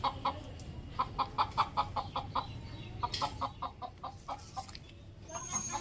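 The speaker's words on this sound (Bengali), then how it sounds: "বাবা ওই যে এখানে মুরগি আছে" Chickens cluck in quick repeated bursts close by, a rhythmic run of short calls over a low background rumble, with a pause before more clucking resumes.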